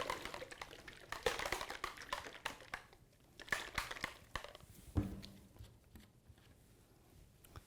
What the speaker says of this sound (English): shake up the solution finish very well. You can hear the ball in there